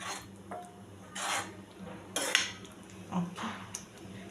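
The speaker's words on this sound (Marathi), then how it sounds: "छान पनीर मिक्स करून घेते" A utensil scrapes and clinks against a pan while paneer is stirred into simmering spinach for lasooni palak paneer, in a few short, quiet strokes.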